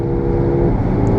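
A Hyundai Atos engine hums with a steady, low drone, rising slightly as the throttle opens at highway speed, recorded from inside the car.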